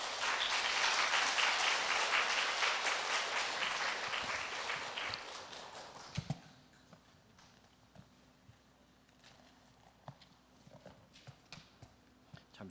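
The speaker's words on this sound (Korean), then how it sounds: "목사님 사랑합니다, 환영합니다 마음으로 박수로 우리 환영하도록 하겠습니다" A church congregation at a Sunday service applauds to welcome the pastor, with full, loud clapping for about six seconds that quickly fades into a quiet room with a few scattered knocks and rustles.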